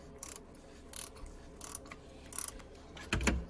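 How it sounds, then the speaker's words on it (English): Ratchet wrench tightening a bolt on the belt tensioner of a 2009–2013 Ford F-150, four short faint clicking bursts spaced under a second apart, then a louder, fuller final burst near the end, with no talking. "Let me just tighten her up just a little bit more."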